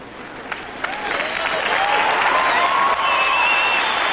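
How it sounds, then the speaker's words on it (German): Audience at a David Copperfield magic show breaking into applause, a dense wash of clapping that swells and holds steady, with some whistles and crowd noise over it. "Give her a big round of applause."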